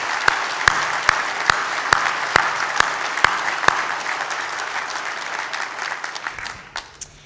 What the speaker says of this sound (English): Please join me, everyone, in a round of applause for our Chancellor, Mr. George Pappas, AO.